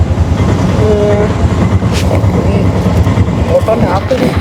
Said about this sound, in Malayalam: നമ്മൾ കോഴിക്കോട് റെയിൽവേ സ്റ്റേഷനിൽ എത്തിയിരിക്കുകയാണ്